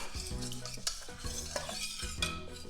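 A sugar and starch mixture for warabi mochi, about 30 grams of sugar, is stirred in a bowl or pan with steady scraping strokes. It sounds close and continuous with soft rhythmic clinks, and no one speaks.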